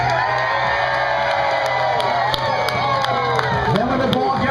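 A bowling crowd at the 2011 PBA World Championship cheers a ball toward the pocket, a loud continuous roar of shouts, whoops and rising yells.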